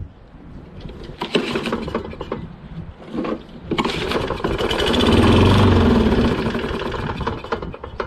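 Kohler XT675 engine on a Toro Recycler 22-inch self-propelled lawn mower, primed with starter fluid in the carburetor, briefly firing and sputtering in short bursts, then a louder sustained run for a few seconds before fading.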